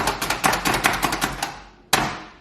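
Knife chopping pepper on a cutting board for corn and bean salsa, a quick run of about a dozen sharp close taps, a short pause, then one final chop.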